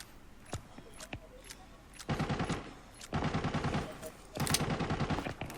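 Automatic gunfire in the Arena Breakout shooter game, with a few sharp single shots followed by three long rapid bursts of fire, fairly close and loud, with faint voices in the background.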